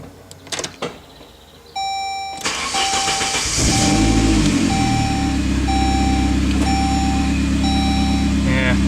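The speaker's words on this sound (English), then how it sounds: "Now let me turn on the vehicle and actually see what it looks like after that." A Saab 9-3 or 9-5 is started after a few soft clicks and a short chime, its engine catching and settling into a steady idle while a regular warning beep repeats, heard close up.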